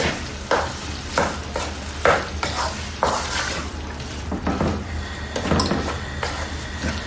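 A utensil scrapes and knocks through cauliflower mac and cheese with melted cheese in a pan, making repeated clattering stirs roughly every half second to a second over a low sizzle, close and fairly loud, with no talking.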